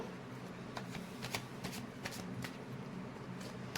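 Playing cards shuffled by hand in a quiet room, a soft steady riffle with sharp snapping flicks recurring every fraction of a second over a low background hum.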